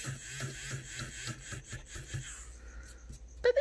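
An eraser rubs back and forth across a stamped paper card in steady, soft scrubbing strokes, close and quiet, slowing and thinning out toward the end with a small tap at the finish.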